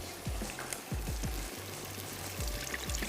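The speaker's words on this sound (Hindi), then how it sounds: "ये मैंने इसमें शामिल कर दिए चावल" Rice is poured into a pot of boiling water for matar pulao, giving a soft rushing pour over a bubbling simmer, with several low thumps scattered throughout.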